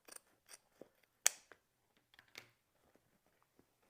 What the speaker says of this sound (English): just cut it off.